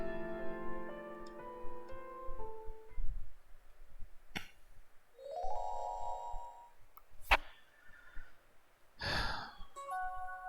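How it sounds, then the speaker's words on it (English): A text message notification chime in a dating video game, short tonal beeps and ticks standing out among soft game music and quiet sighing sounds. "The sound of a text message wakes you from peaceful slumber."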